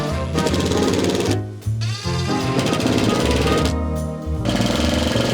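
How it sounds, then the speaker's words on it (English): Power tool driving screws into a van floor during a budget van build, loud and close, buzzing in long bursts with two brief pauses between them. "Screwing in the floor."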